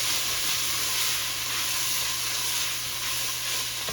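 Onions cooking down in a pot for a creamy tortellini soup give a steady, even sizzle and soft frying hiss that carries on without a break, close and fairly quiet, with no voices.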